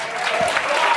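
Studio audience on a television talk show breaks into steady applause, a dense sustained wash of clapping from a crowd, loud and unbroken through the moment.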